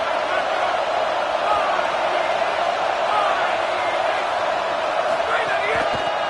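Crowd roaring at a college football game between UGA and FSU in a stadium, a dense, steady wall of cheering noise that holds throughout without letup.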